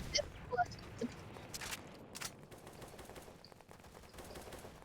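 M4 rifle fire in the Roblox shooter Aimblox, a few quick bursts of clattering game gunshots near the start, fairly faint, before quieter game ambience and soft footsteps.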